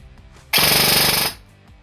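A Zion Arms R15 airsoft rifle fires on full auto in one loud burst under a second long, a close, rapid buzzing rattle that stops abruptly.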